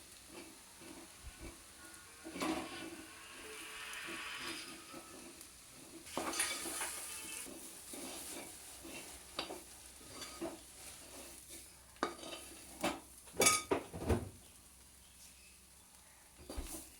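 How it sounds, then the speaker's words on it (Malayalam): Spice powders roasting in oil in a pan, stirred steadily over low heat for chicken curry: a continuous soft sizzle and hiss broken by repeated scraping strokes of a spoon, close and moderately loud, with no talking. "നല്ലപോലെ ഇളക്കി യോജിപ്പിച്ച് പൊടിയുടെ പച്ചമണം മാറ്റിയെടുക്കുക"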